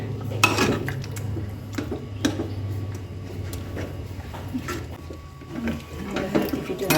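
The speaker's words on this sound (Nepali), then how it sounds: "मजाले घोट्नुपर्छ है। मजाले घोट्नु, धेरै पिचिक्क चाहिँ नपार्नु होइन।" A spoon or masher works chickpeas and potatoes in a pot of karkolo curry, giving repeated scraping knocks and clatters against the metal with a steady low hum and faint voices underneath.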